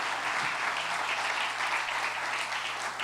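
Steady, dense applause from a church congregation during a sermon, continuous and even for about three seconds with no speech over it.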